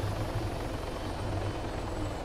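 A helicopter's rotor thumps steadily under a loud, continuous engine roar, constant and close throughout, in the video game Arma 3.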